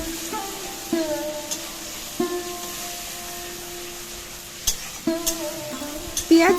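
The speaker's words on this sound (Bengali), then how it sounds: "পেঁয়াজটা একটু নাড়াচাড়া করে নেব।" Onion paste stirred in a hot pan for a Bengali doi katla curry, with soft scraping strokes of a spoon at intervals over a low steady sizzle, close and fairly quiet, no talking.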